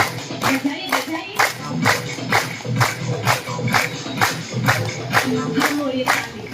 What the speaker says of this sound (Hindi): खो जाए इन तालियों के साथ, डूब जाए इन तालियों में.